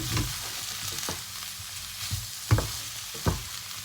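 Vegetables sizzle in a hot burger-grilling pan while a utensil stirs and scrapes them with several sharp knocks against the pan.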